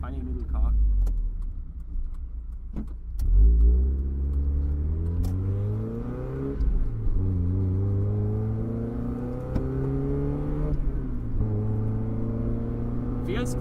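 A modified Mazda MX5 NA Miata, its engine heard from inside while driving, revs rising and falling through gear changes with a rough droning note, loud and close, with a small jangle of keys partway through.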